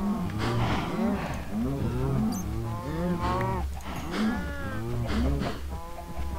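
Minecraft cows low and moo repeatedly in a farm pen in a modded game world, overlapping drawn-out calls that rise and fall steadily throughout, fairly close, with faint talk beneath.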